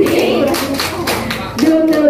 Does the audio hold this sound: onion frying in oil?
no